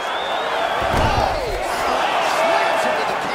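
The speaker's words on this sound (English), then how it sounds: "Slams into the canvas with authority." Fighter slammed onto the canvas in the video game EA Sports UFC 3, a single heavy thud about a second in, followed by scuffling impacts under a commentator's voice.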